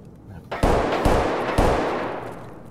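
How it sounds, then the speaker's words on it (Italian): Three loud gunshots in the shooter game Escape From Tarkov crack out at roughly half-second intervals, each with a booming echoing tail, over a low ambient background. "Sei tu che spari così?"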